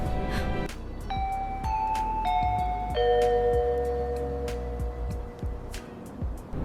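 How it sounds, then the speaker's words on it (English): A doorbell chimes repeatedly, several ding-dong tones ringing one after another, clear and close with no talking. "Please hear the bell."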